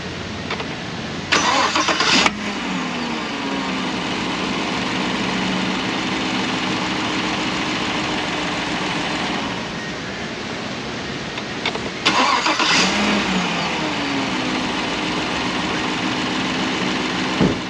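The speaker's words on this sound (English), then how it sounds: "I'm gonna head into the cabin, fire this thing up" A 2016 Chevy Tahoe with a 6L80 transmission cranks and fires up, then settles into a steady, loud idle; a couple of door or cabin clunks mark the start and later moments, with no talking.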